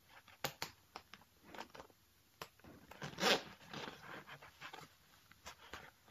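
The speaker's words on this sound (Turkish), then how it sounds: "Ve aynı şekilde bilek kısımlarını da fermuarla açabiliyorsunuz." The wrist zipper on a Venom D2 Racing motorcycle jacket is opened, with scattered soft fabric rustles and handling clicks, then one quick, louder rasping zip near the middle.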